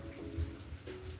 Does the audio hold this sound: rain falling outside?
yes